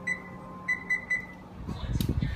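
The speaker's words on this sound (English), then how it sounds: "So I better set a timer." A kitchen timer being set gives four short, high electronic beeps over the first second, followed by clattering handling noises nearby.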